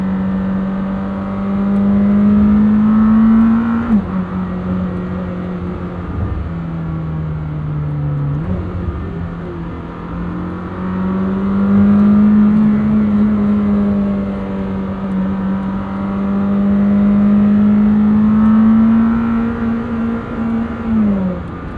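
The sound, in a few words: 2026 Lamborghini Temerario 907hp engine accelerating while driving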